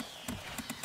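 A horse's hooves clop in quick, faint strikes, four or so sharp hits, in the Stronghold Crusader strategy game.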